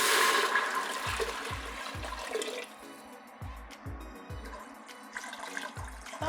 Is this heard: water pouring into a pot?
yes